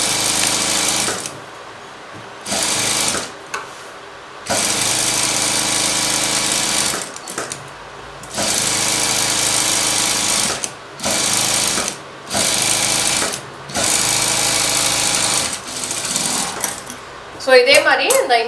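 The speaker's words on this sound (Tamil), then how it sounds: "இது அப்படியே வந்து மெயின் ஃபேப்ரிக்கும் இந்த லைனிங்கையும் சேர்த்து நம்ம தையல் போட்டுக்கிறோம்." A sewing machine joins the main blouse fabric to its lining with steady, close runs of stitching that start and stop several times, each burst lasting a few seconds with short pauses between.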